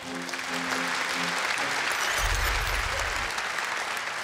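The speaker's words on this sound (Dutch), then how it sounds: "Een applaus voor alle genomineerden alsjeblieft." Applause fills a hall for the award nominees at the 2011 Limburg sports gala, a broad, continuous roar of many hands clapping that swells slightly midway and holds steady throughout.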